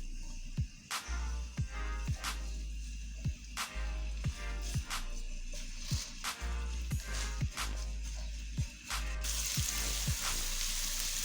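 Ginger-garlic paste sizzles steadily in hot oil, broken by sharp intermittent clicks of a utensil stirring the pan.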